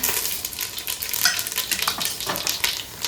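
Crackling sizzle of whole spices such as cinnamon frying in hot oil for biryani, close up, with irregular popping bursts over a constant hiss.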